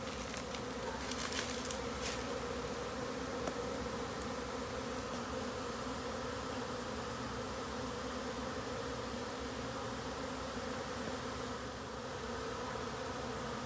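Honeybees swarm into a newly set swarm trap, a dense, continuous buzzing drone of many insects that stays fairly faint and steady throughout, with a few brief higher clicks early on and no voices.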